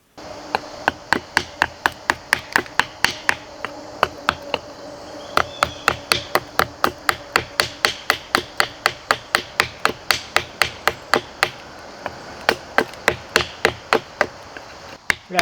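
A thick 8 mm tanto knife, a Lengren King Kong, chops like a small hatchet with dozens of sharp, evenly spaced loud strikes in a steady rhythm, close and with no talking.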